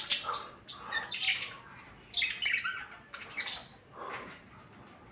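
Pet lovebirds kept together in a cage let out sharp chirps and squawks in short, loud bursts separated by brief pauses, close to the microphone.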